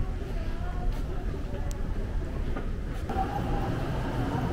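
A subway train in Korea rumbles steadily from inside the car, with a dull, continuous roar and faint murmuring in the background.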